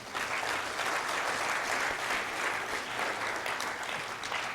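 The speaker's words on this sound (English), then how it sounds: "So please, all of you, give yourselves a big round of applause." Sustained audience applause filling an auditorium at an ISB Deccan Dialogue event, a dense steady wash of many hands clapping at even loudness throughout.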